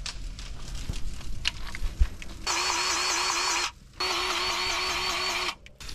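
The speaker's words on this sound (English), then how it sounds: "This is our new cordless grease gun" A cordless grease gun runs in two steady motorized bursts, a whirring high-pitched drone with a faint cyclic pulse, broken by a short pause, pumping grease into an excavator during routine maintenance.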